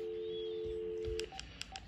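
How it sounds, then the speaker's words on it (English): Telephone tones during repeated calls to an unavailable number: a steady unbroken tone for over a second, then a short run of separate dial beeps, fairly quiet and with no voices. "I'm just getting dial tones"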